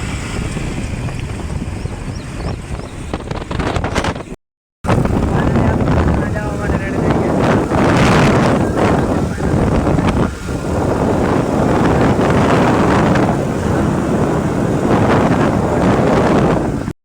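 Strong storm wind near a village pond, buffeting the microphone with a loud continuous roaring rumble, cut by one brief dropout, then rushing on with surging gusts.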